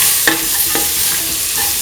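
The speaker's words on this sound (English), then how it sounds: "Mix thoroughly with the rest of the ingredients." A spoon stirs a garam masala spice mix through potatoes, ivy gourd and coconut milk in a pan, with a few sharp scrapes over a continuous sizzle. Nobody speaks.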